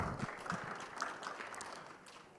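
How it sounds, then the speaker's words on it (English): Steady applause from an audience, a crowd clapping together for a couple of seconds at moderate volume. "A round of applause, please."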